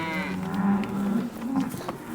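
Ranch cattle crowded against a fence let out a loud, close, drawn-out moo, followed by a second lower bellow, with no talk over it.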